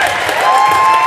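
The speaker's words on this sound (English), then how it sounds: "a round of applause from the Cougar faithful" A home crowd at a high school boys basketball game applauds, a brief, dense burst of clapping and cheering filling the gym.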